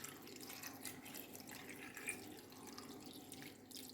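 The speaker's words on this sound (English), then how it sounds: "Next, I add in water." Tap water poured into a cooking pot of diced ponmo (cow skin), a steady faint splashing and trickling that runs throughout without talk.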